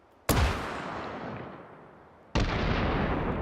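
Two loud, sharp grenade launcher blasts in the virtual reality shooter H3VR, each a sudden bang followed by a long, fading reverberant tail, the second arriving about two seconds after the first.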